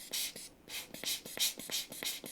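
Protective film peels off a new replacement touch screen digitizer for a Nintendo DS Lite in a run of quick, close, crackly scraping strokes in steady rhythm, with no talk.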